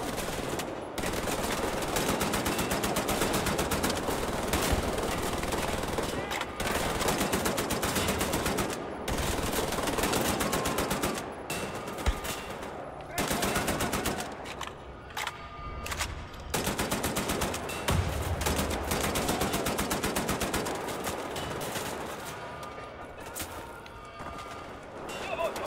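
Rapid gunfire from Wolfenstein: The New Order, with dense bursts of automatic shots running almost continuously over game audio and broken by brief pauses, loud and close, with a voice talking over it.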